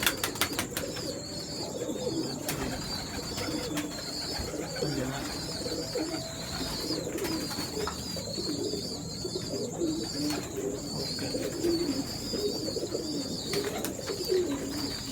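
Pigeons coo repeatedly at close range, soft rolling calls overlapping continuously in a breeding loft, with light rustling and flapping around them.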